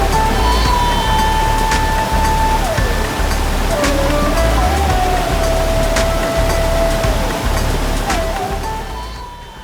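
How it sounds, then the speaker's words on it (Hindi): A constant broadband rush of the Ganges River flowing in Haridwar, India, loud and steady, with a faint wavering tone drifting above it. "पानी की आवाज़ बहुत क्लियरली आपको सुनाई देगी।"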